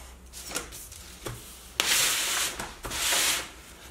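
Scissors or a blade cutting a paper strip off an A4 sewing pattern sheet, a few short scrapes followed by two longer rasping cuts, close and fairly loud.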